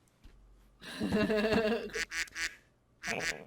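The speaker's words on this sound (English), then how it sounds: "Quack, quack." Quacking from a duck comes in a burst of nasal, honking calls, followed by a few short choppy calls and a final quack, close and moderately loud amid chatter in a podcast setting.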